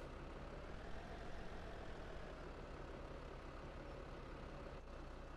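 A farm truck near a grain silo auger sits parked on uneven ground, its engine giving a steady, low, continuous rumble that stays faint and unbroken throughout, with no voices.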